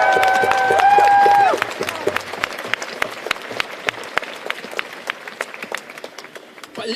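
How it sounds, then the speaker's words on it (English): Applause at a justice campaign rally, with a fading tonal sound and voices at the start before scattered, uneven clapping from a modest crowd takes over, loose and irregular, gradually thinning out. "Can we give a round of applause to Jefferson?"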